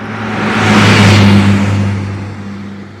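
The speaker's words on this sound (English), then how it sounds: "Does fast traffic make you feel frightened or worried?" A car engine revs as it speeds past on a road, rising to a loud peak around the middle and then fading away, with a steady tonal whir under the broad rush of passing traffic.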